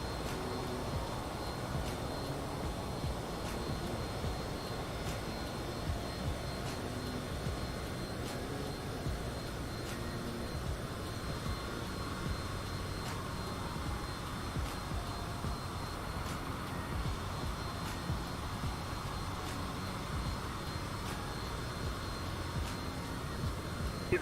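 Cessna Citation CJ4 business jet engine in Microsoft Flight Simulator 2020, heard from the cockpit in VR as a steady, unbroken broadband drone of moderate loudness that runs throughout without talk.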